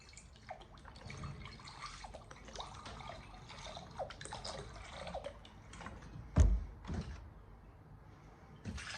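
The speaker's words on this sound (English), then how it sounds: "So pour our water into our bucket." Water poured into a bowl for a classroom water cycle experiment gives a soft, faint splashing trickle with scattered drips and a brief louder knock partway through.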